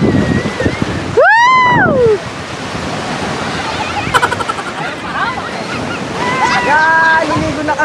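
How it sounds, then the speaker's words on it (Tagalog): High ocean waves crash and wash up a beach at San Felipe, Zambales, a loud, constant roar of surf with wind buffeting the microphone, while people shout and talk nearby. "Taas ng alon."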